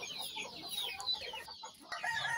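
Chickens cluck and chatter softly in a rooftop chicken farm, several birds calling in quick overlapping bursts at a moderate distance.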